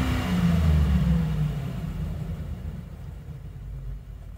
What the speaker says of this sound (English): Let's hear this motor.